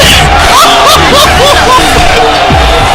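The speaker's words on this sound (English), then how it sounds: "The crowd is going nuts." Crowd roaring and cheering at a JV ice hockey game, a loud, dense wall of voices with whoops rising over the noise, steady for a few seconds.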